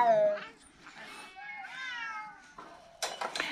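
A hybrid cat being fed by a keeper gives drawn-out, wavering meows and growl-like calls, close and prominent, with some speech mixed in near the end.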